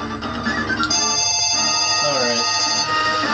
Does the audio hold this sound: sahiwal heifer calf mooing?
no